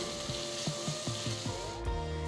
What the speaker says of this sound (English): Give everything a quick stir.